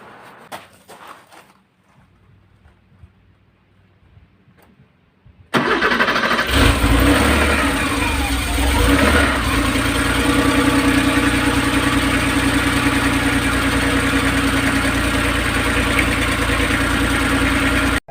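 A dry-sump Porsche 911 engine fires up after several quiet seconds, then settles into a loud, steady idle that runs on alone without any talk.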